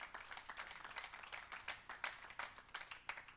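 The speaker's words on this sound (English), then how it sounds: "Give him a round of applause." A small group claps for a man at a men's conference round table, faint and distant, in a loose rhythm of separate claps that never builds into a full roar.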